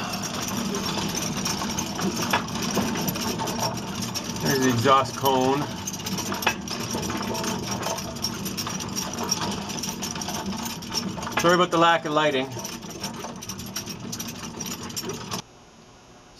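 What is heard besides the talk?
Orenda 14 turbojet turbine coasting down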